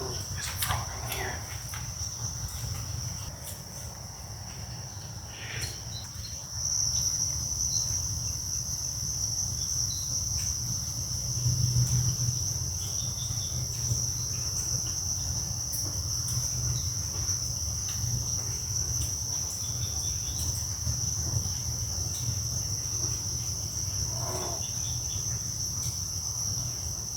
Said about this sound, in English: Some of the animals can hear chirping behind the fence.